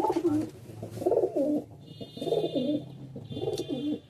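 Madrasi high-flying pigeons in a Kolkata loft coo in three low, rolling bouts separated by brief pauses, close and clear, with a faint thin tone in the background.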